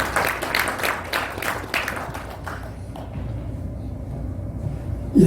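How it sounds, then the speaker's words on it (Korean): An audience at a theology conference session claps to welcome a speaker, a dense patter of hand claps that thins out and fades to quiet room tone within a few seconds. "박수로 환영하겠습니다."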